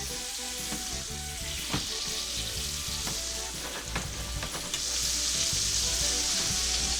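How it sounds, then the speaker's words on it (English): A nut-crusted red snapper fillet sizzles steadily in a pan of sauce, a dense continuous frying hiss that swells louder toward the end as the pan is moved, with no talking. "just want to kind of move the pan around, get the sauce evenly distributed"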